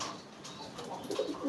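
Soft, low pigeon coos from a loft of racing pigeons, faint and somewhat distant over a quiet background, a few rolling murmurs.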